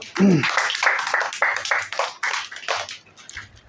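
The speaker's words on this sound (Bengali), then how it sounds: "নির্ণয়ের জন্য একটা হাততালি দাও" A class of sixth-grade students claps for a classmate in a short, loud burst of steady applause that thins out and ends after a few seconds.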